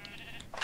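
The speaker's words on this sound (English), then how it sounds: "That's the sheep." A sheep gives a single short bleat near the end, fairly faint and heard over quiet background noise.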